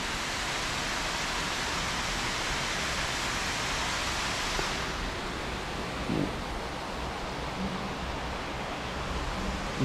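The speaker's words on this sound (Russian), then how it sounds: "И внизу у нас тут течет ручей." Steady broadband rush of a stream flowing below a dormitory balcony, heard from above as an even, moderately faint wash of water noise with no voices.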